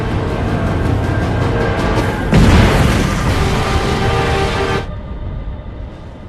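A loud, sustained bomb explosion blast from the film 300: Rise of an Empire, with a burst of broadband rumble partway through, then the roar drops off into a quieter low rumble.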